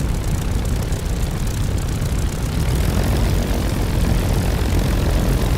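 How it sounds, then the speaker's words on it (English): A Spitfire LF Mk. IX's piston engine idles at about 1000 to 1200 RPM in the DCS flight simulator, its propeller chugging loud and close in a steady, unbroken rumble throughout. "Continue to idle the engine at 1000 to 1200 RPM."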